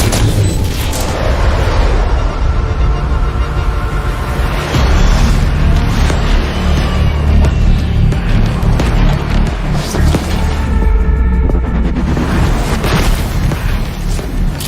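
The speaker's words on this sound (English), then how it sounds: "We're picking up gunfire." Dense, continuous rumble of booming blasts and rapid gunfire from a Valorant tournament battle, loud throughout with no pauses.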